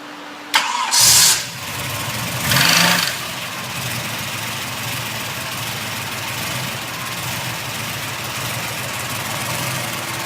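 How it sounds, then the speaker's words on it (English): A car engine drained of its oil cranks and catches with a couple of sharp bursts, then settles into a steady, loud idle that keeps running evenly to the end. "now we're going to start it again, running the engine on no oil"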